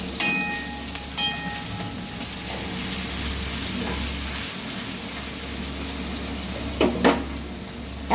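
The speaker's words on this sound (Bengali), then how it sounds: "এবার আমি পেঁয়াজ কোচানো দিয়ে কিছুক্ষণ ভেজে নেব।" Chopped onion sizzles steadily in hot oil with fried cumin seeds, a constant close frying hiss with a few faint clinks of a utensil against the pan.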